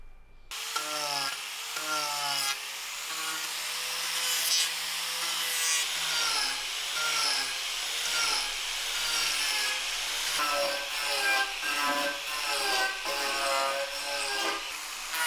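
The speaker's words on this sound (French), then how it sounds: "je vais travailler avec une meuleuse et différents outils sur meuleuse" An angle grinder with a cutting attachment bites into wood, its whine rising and falling in repeated strokes, steady and close throughout.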